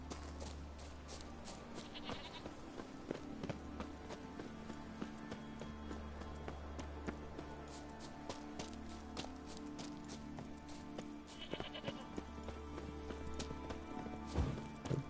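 Goats bleat in a Witcher game scene, a couple of faint calls over a busy game soundscape with rhythmic hoof clip-clop and low hum, fairly quiet and distant throughout.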